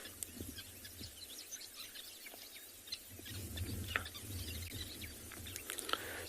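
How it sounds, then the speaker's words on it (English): Faint chattering calls of many sociable weavers scattered in the background on a South African morning safari, with low outdoor rumble, irregular and distant. "A lot of sociable weavers calling around us."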